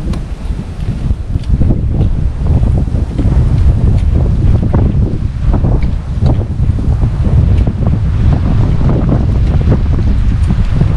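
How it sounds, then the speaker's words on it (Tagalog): Strong wind roars and buffets the microphone continuously, a loud, dense rushing that never lets up. "nalakas na hangin"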